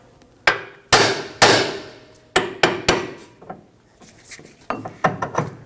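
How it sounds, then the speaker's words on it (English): Sharp metallic hammer strikes on a 2012-2019 Fiat 500 steering knuckle, freeing a tie rod stud, ring out one at a time, irregularly spaced, some in quick pairs, then a cluster of lighter taps near the end. "Use a hammer and tap the knuckle on the side."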